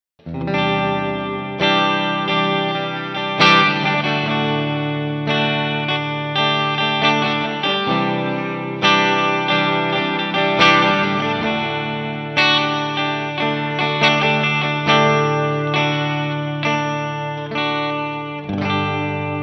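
Electric guitar played through a JHS Octave Reverb pedal with the octave turned off, reverb only: a steady run of sustained chords and picked notes with a washy tail, close and fairly loud, without talk.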